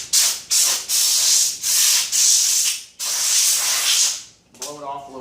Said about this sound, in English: then you can take your compressed air and